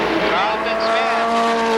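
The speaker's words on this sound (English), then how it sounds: "sideways off the second turn, and we got a spin as Kevin Miller spins in turn 2" Race car spinning out in turn 2 at Columbus Motor Speedway, a loud sustained tire squeal with wavering pitch over engine roar while a commentator talks over it.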